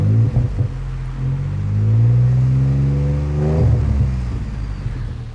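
A Ford EcoBoost fitted with a Diamond Eye cat-back exhaust revs up, its deep note swelling and holding, then dropping off before another short blip, close and fairly loud.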